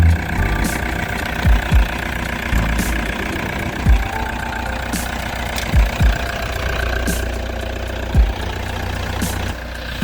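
A 2002 Toyota Hiace engine idles steadily with a new alternator fitted, a continuous mid-to-low rumble broken by a few soft knocks and clicks, close by with no talking.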